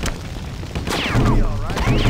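Gunshots and explosions in a zombie video game, a booming rumble with scattered shots that swells louder toward the end, mixed with shouted game voices and whooshing effects.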